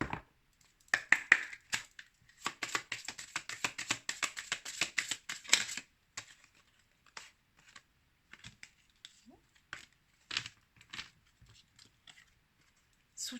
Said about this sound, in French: on va maintenant prendre une carte de mes petites prières aux anges pour faire le plein d'amour